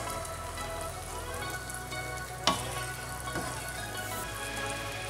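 Zarda, Indian sweet rice with pineapple and cardamom powder, gently stirred in a simmering pot, a steady bubbling sizzle with one sharp clack of the spoon against the pan midway.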